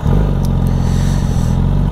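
A Honda CBR 600 sport motorcycle's engine runs loud and close with a rough, steady revving drone and a mechanical clatter underneath, uninterrupted by speech.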